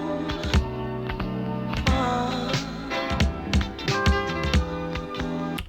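A hip-hop beat is programmed on a Zoom Sampletrak and an Elektron Digitakt, with punchy drum hits in a steady loop over sustained tonal sampled layers, played loud and close with no talking.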